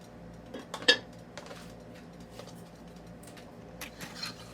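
A spoon clinks now and then against a pot as chicken is stirred and roasted with onion masala for a Punjabi-style chicken curry, with one sharper knock early on over a quiet, low background.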